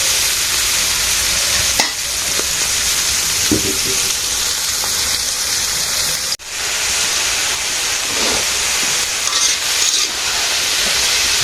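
Fish and eggplant fry in a pan in a Bengali village kitchen, giving a loud, continuous sizzle with scattered stirring scrapes and a brief break partway through.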